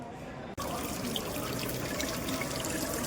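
Cold water runs steadily from a tap for ablution near the Kufa mosque, a continuous close splashing flow that starts abruptly after a brief pause and continues without break.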